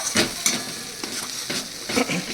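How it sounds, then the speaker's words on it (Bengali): Onion is stirred and fried in a pan over low heat, with a soft continuous sizzle broken by several scraping stirs at a fairly even pace, close and quiet. "এই পেঁয়াজটা মিনিট 2 মতো নাড়াচাড়া করলে"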